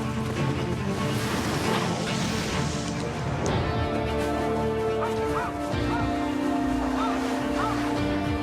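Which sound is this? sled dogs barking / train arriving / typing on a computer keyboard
sled dogs barking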